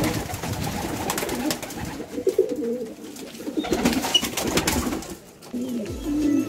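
Pigeons just let out in the evening coo in repeated low, throaty bursts, fairly close and continuous, with a brief gap before the cooing resumes.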